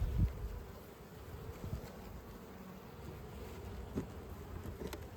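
A low, continuous buzz of many honey bees hums close by at an open hive, with faint clicks and knocks over it.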